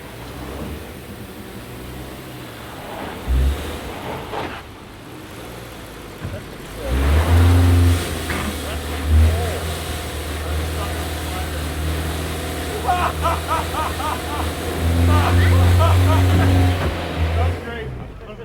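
A Subaru 4WD car engine revs in bursts with its wheels spinning, the engine drone rising and falling beneath someone talking throughout.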